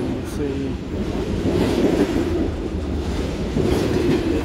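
CSX freight cars rumble along the tracks during yard switching, with a steady low roar and faint rhythmic clatter, fairly close and continuous throughout.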